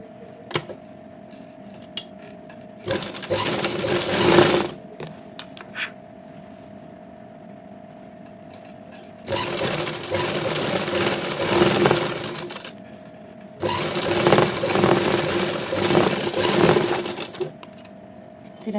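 An electric sewing machine stitches Patiala salwar panels together in three bursts of fast, rattling whir, loud and close, separated by quieter pauses with a steady low hum and a few small clicks.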